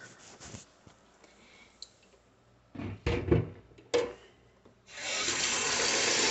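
Water runs from a tap to fill a humidifier tank. Scattered handling knocks and rubs come first, then a steady gush of water starts near the end and keeps flowing, nearby and fairly loud.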